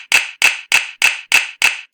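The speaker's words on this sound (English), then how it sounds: "It says clap out these rhythms." Six sharp, evenly spaced hand claps at a steady moderate pulse, played back as a rhythm for students to echo in a music lesson; crisp and close with no other sound.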